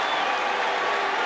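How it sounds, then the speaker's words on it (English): A cricket crowd gives dense, steady applause that holds at an even level for the whole short stretch, with no pause. "maybe the applause from England was genuine"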